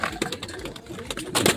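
A breeder racing pigeon being set down, with close fluttering and scuffling movements and a brief burst of wing flapping at the end.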